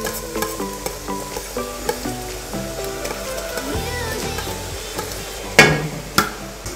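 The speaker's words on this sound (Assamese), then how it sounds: "এয়া মই কাটি লোৱা নিমকিখিনি তেলত মই দি দিছোঁ" Cut pieces of nimki dough fry in hot oil in a wok, giving a steady bubbling sizzle. Background music plays underneath, and one sharp clang of a utensil on the wok stands out near the end.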